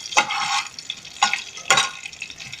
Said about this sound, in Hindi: अब हम इसमें डाल देंगे लहसुन, और इसे गोल्डन ब्राउन होने तक भून लेंगे।